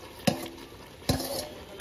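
A spoon stirs chicken curry in a clay pot with two distinct scraping clacks about a second apart, quiet and close, over a faint low sizzle.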